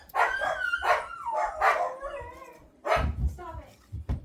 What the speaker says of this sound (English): They bark at leaves, I promise.